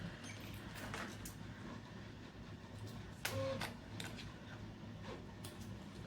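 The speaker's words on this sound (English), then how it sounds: "I'm stitching forward a little bit and then back stitching and then stitching forward" A sewing machine stitching a camera bag, running forward, briefly reversing to back stitch, then forward again, a faint rapid mechanical patter with one louder clunk partway through, no voices.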